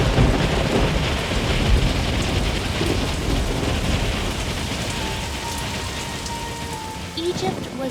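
A hail storm sound effect: dense, steady pelting and drumming of hailstones with a low rumbling roar like thunder underneath, loud and continuous before easing slightly, and a brief tonal sound near the end.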